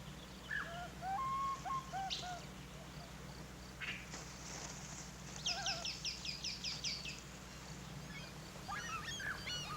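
Gulls call over the Gulf of Alaska in a series of short, high cries that come in clusters, moderately near, above a steady low background rumble.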